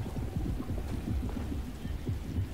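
Steady rain and low rumbling thunder in the video game Alone in the Dark, a continuous stormy wash with heavy low-end rolls throughout, no talking.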